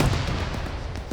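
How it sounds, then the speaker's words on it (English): Heavy weapon fire in Arma 3 combat around a town: a loud, dense burst of booming shots and rumble, continuous and close, with no voices. "Firing"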